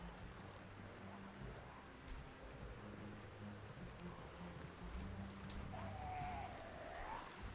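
Heavy rain in the video game Project Zomboid, a steady dense hiss of falling rain that fills the whole stretch and rises slightly toward the end, with no talking.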